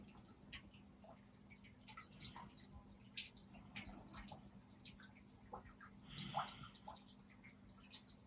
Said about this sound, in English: listening to the gentle water